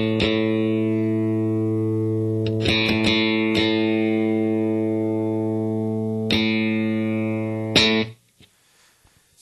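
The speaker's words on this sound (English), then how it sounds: "Fifth string open A for tuning." An open A on the fifth string of a guitar rings out for tuning, a single sustained note held for about eight seconds with a few faint string touches before it is cut off, no talking.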